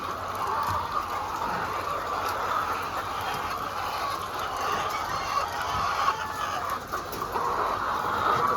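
Free-range chickens cluck steadily over a constant background hiss of running water, their calls blending into a continuous farmyard murmur without pauses.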